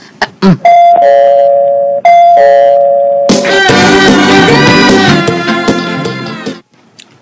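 A loud electronic doorbell chimes twice with a sustained tone, then a fuller, louder melodic chime rings out before cutting off.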